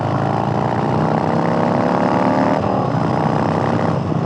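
A 2019 Harley-Davidson Low Rider FXLR with a stage 1 exhaust rumbles loudly and steadily, its engine note shifting and dropping in pitch as the rider downshifts, close and continuous with no talking.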